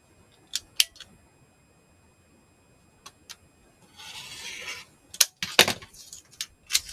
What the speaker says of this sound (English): then we're going to cut the excess off